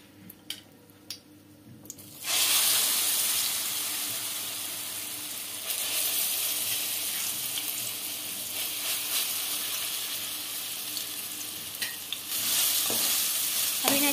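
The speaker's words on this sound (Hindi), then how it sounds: "अब हमने जो केले ग्राइंड किए थे वो डालेंगे।" Ground banana paste with cardamom pods hits a hot pan for banana halwa, a loud sudden hiss bursting up after a quiet start, then a sustained close sizzle with a few light clicks of stirring.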